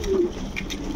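Pigeons cooing close by in a loft, a short low throaty coo with a brief higher note, over a faint hum of background noise.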